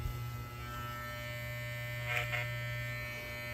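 An electric hair clipper with a freshly sharpened blade runs with a steady buzzing hum, with a couple of brief brighter bursts in the middle as it cuts.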